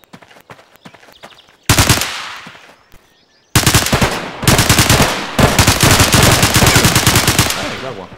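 Rapid automatic gunfire in the video game Garry's Mod battle royale, loud close bursts of sustained shooting broken by short pauses, with no talk over it.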